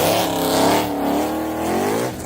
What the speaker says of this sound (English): the next time you hear the car accelerate, it's in second